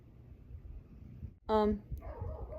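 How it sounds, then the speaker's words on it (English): A single sharp dog bark rings out over a low background murmur, followed by faint voice-like sounds. "If you hear barking in the background,"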